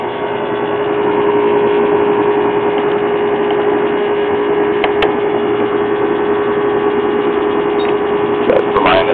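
A reach-in freezer's refrigeration compressor runs steadily with a loud, constant hum and a few faint clicks near the end, with no talk.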